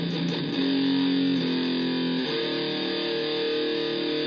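An electric guitar is played through free amp and distortion plug-ins in REAPER with the EQ switched off, giving a dark, fuzzy sustained tone. Held notes step between pitches and ring steadily with no voice.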